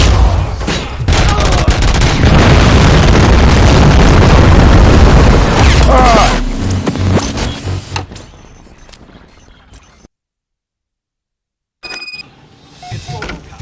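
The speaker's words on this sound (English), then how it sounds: "Am I hearing gunshots?" Loud, dense bursts of rapid video game gunfire and booming blasts during a RoboCop boss battle for several seconds, then it fades to quieter rumbling, a brief silence, and a few sharp electronic tones.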